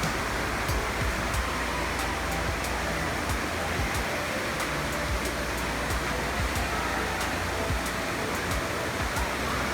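Indoor wave pool at a Great Wolf Lodge water park in Williamsburg, Virginia, sending machine-made surf toward its shallow end: a steady, dense wash of churning water with no break, loud and close, like beach waves rolling in.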